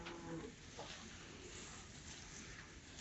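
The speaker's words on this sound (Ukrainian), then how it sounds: "Оце вже наші коровки йдуть." Cows mooing as they walk in on a village farm, a low drawn-out moo near the start heard faintly over steady outdoor wind and rustle, with no one speaking.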